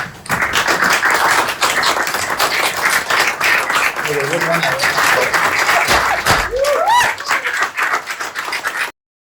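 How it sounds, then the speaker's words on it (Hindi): Office staff clap and applaud, a dense, continuous patter of many hands close by, mixed with cheering voices and chatter throughout before the clip cuts off abruptly. "तालियां हो जाओ"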